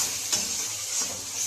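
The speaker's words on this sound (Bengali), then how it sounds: "মশলাটা দেওয়ার পরে ভালো করে নেড়ে চেড়ে নেব।" Vegetables and spices for chow mein stirred as they fry in a hot kadai, a steady close sizzle with soft scraping stir strokes throughout.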